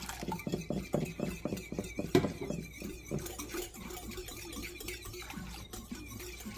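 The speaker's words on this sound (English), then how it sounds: "we're just going to go ahead and stir this until it's mixed" A spoon stirs yeast into lukewarm water in a bowl for pizza dough, with quick rhythmic clinks and scrapes against the bowl that soften into a gentle swishing, close and moderately quiet.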